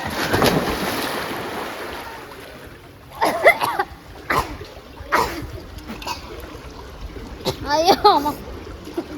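People splash into a family swimming pool with loud, repeated bursts of water, mixed with excited voices talking and shouting nearby.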